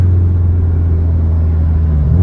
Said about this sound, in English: And a little downshifting action here.